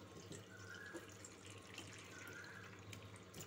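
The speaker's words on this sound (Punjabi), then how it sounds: "ਕੋਈ ਛਾਨਣੀ ਲੈ ਕੇ ਅਤੇ ਇਹਨੂੰ ਆਪਾਂ ਛਾਣ ਲਾਂਗੇ।" Water from boiled watermelon rind drains through a kitchen sieve in a faint, steady trickle with soft splashing and no talking.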